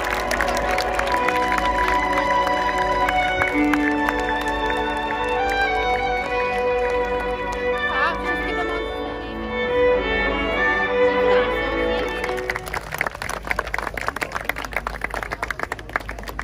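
An audience claps at a dog show; music plays for most of the stretch before a broad wash of applause takes over near the end and carries on steadily.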